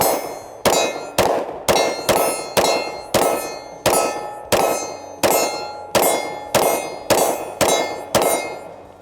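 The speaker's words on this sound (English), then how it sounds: "Let's get some shots downrange with my MR." A rapid string of about fourteen sharp gunshots from Daniel Defense H9 and MR pistols, fired at a steady pace over nine seconds. Each loud crack is followed by a short ringing decay, with no talking.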